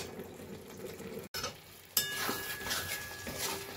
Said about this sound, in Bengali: এইভাবে 2-3 মিনিট মতো এইভাবে নাড়া দিয়ে দিয়ে কষা কষা করে নেব